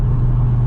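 A 1265 HP Audi RS3 driving, its engine giving a loud, steady low drone throughout with constant road rumble and no talk over it.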